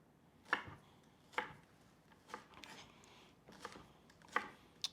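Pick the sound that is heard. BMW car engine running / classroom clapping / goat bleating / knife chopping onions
knife chopping onions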